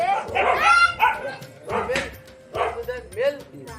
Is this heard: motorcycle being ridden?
no